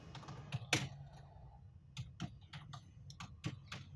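Typing on a computer keyboard while working in Microsoft Excel, with irregular close, crisp key clicks in short bursts and pauses over a low background hum.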